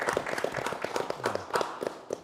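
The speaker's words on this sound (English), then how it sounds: "Let's give him a round of applause" A small group applauding a podcast guest and production crew, with close, loose, uneven hand claps that patter along for a couple of seconds at moderate volume.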